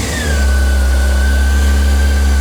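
Honda CBR600F4i motorcycle engine idling steadily after a rebuild, a loud, close, continuous low rumble with a faint high whine above it and no speech.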